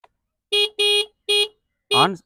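A Honda Dio 110 scooter horn beeps four times in short, loud bursts, the last one slightly longer and wavering, up close with no talking.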